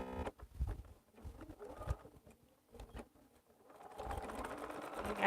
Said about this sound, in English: I'm gonna lock stitch these because this is gonna be on the outside edge of my quilt